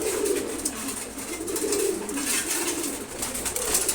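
Pigeons coo softly and repeatedly at a pigeon farm, low rolling calls near at hand over a quiet background, no talk.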